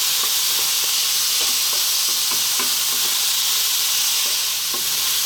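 Chopped garlic frying over lively heat in a pan, a loud continuous sizzle punctuated by repeated scraping taps as it is stirred, close up with no voices.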